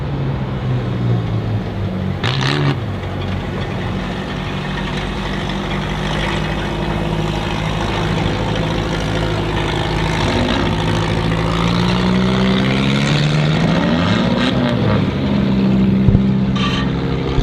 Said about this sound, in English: You can hear him trying to get it revved up and cleaned out and get it to roll.